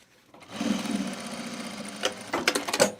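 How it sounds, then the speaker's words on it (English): A sewing machine runs a short burst of back stitching along a self-drafted bag seam, a close, even mechanical hum that stops and then gives a few quick stuttering stitches. "I don't know why I just back stitched that"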